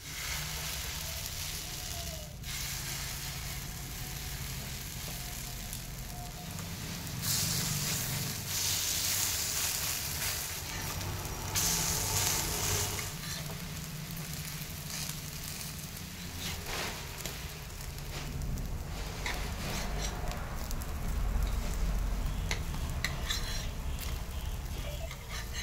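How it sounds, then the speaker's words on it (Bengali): Sabudana and egg batter fries in hot oil with a soft, steady sizzle and crackle, faint and continuous, swelling slightly in places and heard alone without talk. "বাকি যে ব্যাটারগুলো ছিল আমি সেগুলো আবারও ভেজে নিচ্ছি"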